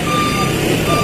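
Steady high reversing beeps from a tow truck backing up to haul away an illegally parked car, sounding continuously over street noise and talk.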